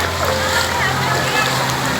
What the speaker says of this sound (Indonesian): Ini airnya sudah masuk ke rumah ini.